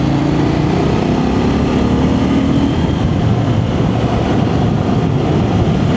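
A CF Moto 800NK motorcycle engine drones steadily while riding, loud and continuous with wind rush, a slight rise in pitch early on, and no voice over it.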